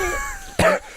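A person imitates a raspy, wheezy cough from a smoker's breathing, one short burst after a stretch of quiet breathy sound, close and fairly loud.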